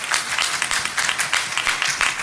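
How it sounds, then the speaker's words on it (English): An audience applauding at a CBCF ALC wealth-building conference session, steady crowd clapping that is moderately loud and continuous, with the patter of many hands throughout. "you can give them all applause"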